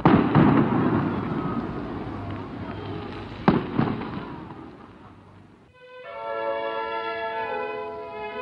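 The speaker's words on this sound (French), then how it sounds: "Mon Dieu, une grenade." A grenade blast in a French wartime radio drama: a loud, rumbling explosion with crackling debris that slowly fades, then a sustained tonal drone takes over, with no voices heard.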